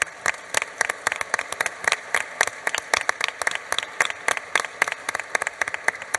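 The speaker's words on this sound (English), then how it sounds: "Give yourself a round of applause." Audience applauding women elected officials at a mayors' general assembly, dense steady clapping from many hands throughout.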